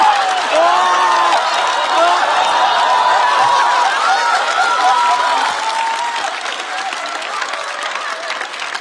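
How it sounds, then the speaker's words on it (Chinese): A studio audience breaks into sustained applause at a roast-style comedy show, loud and dense at first and then gradually tapering, with scattered chuckles mixed in. "把这段掌声用在刚刚那个正剧确凿之后就成立了啊。"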